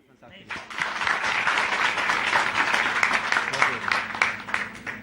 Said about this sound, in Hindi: क्या आप लोग सब मिलकर ताली बजा सकते हैं अपने लिए?